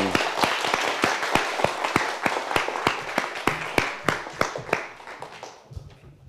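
A school audience applauds a sixth-grade student speaker, with steady, evenly spaced claps from a fairly small group that thin out and fade near the end.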